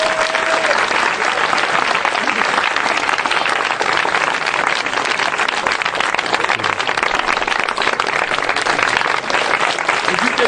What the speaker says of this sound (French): Acclamons Jésus-Christ pour ça